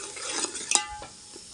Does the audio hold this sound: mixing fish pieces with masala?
yes